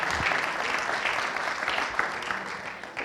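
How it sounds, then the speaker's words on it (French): An audience at an insurance company's professional awards event applauds with close, dense clapping that stays steady and tapers slightly near the end. "S'il vous plaît, on peut les applaudir"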